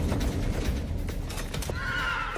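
A horse neighs in a loud, shaky whinny near the end, following hoof clatter and scuffling movement.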